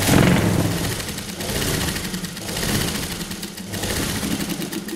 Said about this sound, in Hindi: हम इस जैकेट को उल्टा करेंगे और ऐसे यहाँ से सिलाई लगा लेंगे।